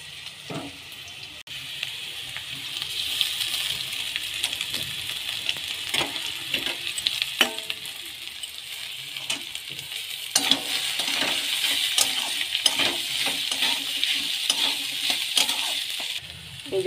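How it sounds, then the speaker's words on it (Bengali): Potatoes frying in a pan, stirred with a spatula: a steady sizzle runs throughout, with repeated scraping strokes and clinks against the metal. "আর আলুগুলো একটু নেড়ে নেবো"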